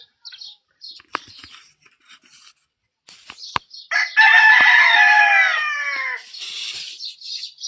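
A rooster crows in one long, loud call after a few scattered clucks and wing flaps, with softer calls continuing at the end.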